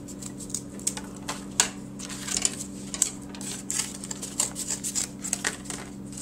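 Scissors snipping through thick cardboard while cutting out a mask piece, a steady run of close, crisp cuts and rustles over a low background hum.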